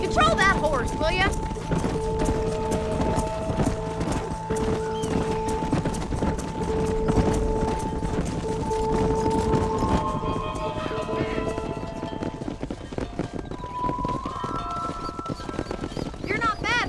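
Horse hooves clip-clop in a steady galloping rhythm beneath sustained musical tones, with voices talking over the hoofbeats, in the video game Red Dead Redemption.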